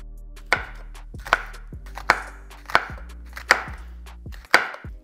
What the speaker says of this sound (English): we're gonna start off by cutting the onion